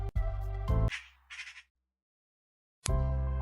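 A magpie gives harsh, rattling chattering calls in loud close bursts, with a short gap of softer noise and then silence before another burst.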